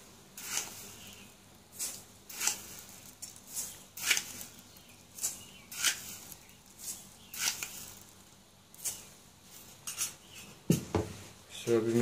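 Spoon stirring six spoonfuls of sugar into 200 ml of milk in a pot or bowl, a steady run of light clinking scrapes repeating roughly every half second, close and moderately loud, with no talking.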